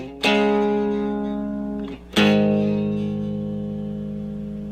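An overdriven electric guitar plays the intro to a rock song with two strummed power chords, each ringing out and slowly decaying, the second longer sustained.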